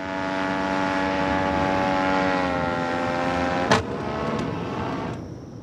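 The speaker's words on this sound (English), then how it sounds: "The engine stopped and Ben must make an emergency landing." Steady drone of a small aircraft engine with strong harmonic tones, a sharp click near the end as the tone shifts and fades, suggesting the engine stopping in flight over the Mississippi.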